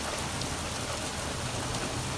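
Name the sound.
heavy rain falling outside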